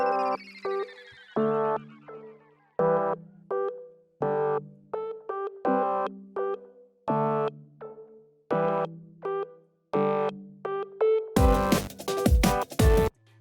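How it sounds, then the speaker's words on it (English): A hyperpop beat of repeated pitched synth hits, muffled at first with the high end filtered out and brightening over time, ending with a crisp burst of full-range percussion. "We go to the max so that it's cutting out the high end in the very beginning of the beat"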